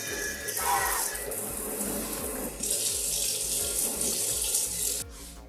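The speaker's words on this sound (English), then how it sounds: "we're going to let our hot water run a little bit" Hot water running from a kitchen tap while making crème brûlée, a steady close gush that grows slightly louder partway through and then cuts off near the end.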